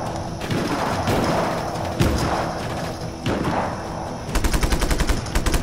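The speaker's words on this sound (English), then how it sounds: "Where are the rebels shooting at?" Gunfire crackles in the video game Just Cause 3, loud heavy shots and thuds at irregular intervals, then a rapid burst of automatic fire toward the end.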